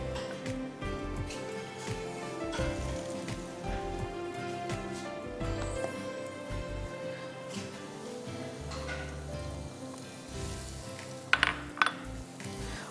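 Chopped onions frying in hot oil for a lobia (black-eyed pea) curry give off a steady, crackling sizzle, with background music and a few louder clinks near the end.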